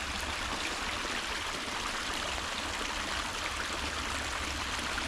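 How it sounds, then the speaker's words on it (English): Water in a small ephemeral creek flows around a log acting as a natural dam, producing a steady, close, continuous rushing and burbling with no voices. "this is looking like a good flow of water."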